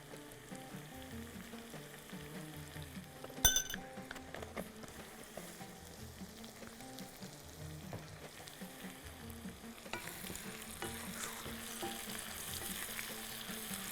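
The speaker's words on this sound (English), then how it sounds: "We're going to saute the onions." Onions saute in a pan for a Bahraini dish, a low, steady frying sizzle with scattered stirring clatter and one sharp knock early on, the hiss growing brighter toward the end, quiet and with no talking.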